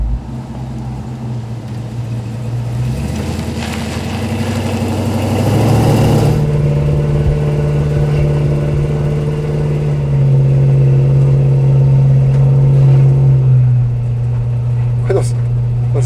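The Batmobile's engine idles with a deep steady drone, revs up into a rising roar, then settles into a lower, even rumble, close by, while people talk over it.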